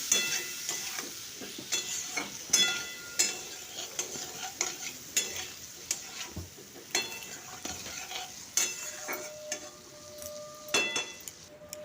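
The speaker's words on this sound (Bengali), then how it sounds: "আলু থেকেও তেল ছাড়তে শুরু করেছে ছিটা ছিটা লাগছে" Potatoes frying in hot oil in a pan with mushrooms, giving a steady sizzle broken by frequent sharp spattering pops and a few stirring clinks, close up with no talking.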